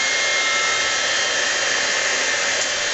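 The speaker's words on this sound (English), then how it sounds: "Set that aside so I don't blow it away with my heat tool. We're going to heat set that." A crafting heat tool blows steadily at close range while heat-setting embossing powder on a Halloween easel card, a loud, even hissing whoosh that carries on without a break.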